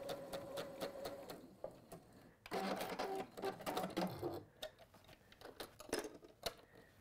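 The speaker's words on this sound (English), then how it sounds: "I'll take that bobbin out because it's making a bit of a racket." Sewing machine stitching in steady bursts, its mechanism clattering with a loose, rattling bobbin and irregular ticking knocks, close and fairly quiet, no talk.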